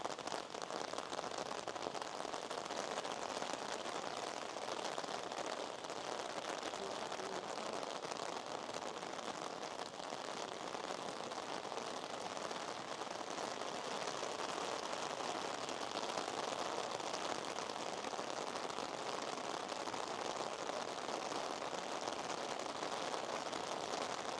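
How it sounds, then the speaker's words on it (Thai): Rain falls steadily on Shirakawa-go village, a dense, even hiss of drops pattering on surfaces that stays constant and moderately quiet the whole time, with no one speaking. "ฝนจะตก"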